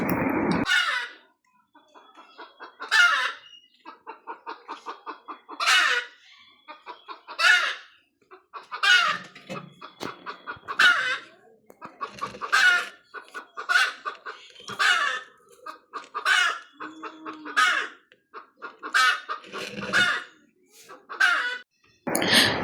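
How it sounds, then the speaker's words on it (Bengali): A hen clucks loudly and insistently after laying an egg, with long runs of rapid clucks rising into drawn-out, squawking cackles that repeat again and again at close range with no talk. "ডিম পাড়ার পর যেহেতু মুরগি এরকম কক কক করে ডাকে"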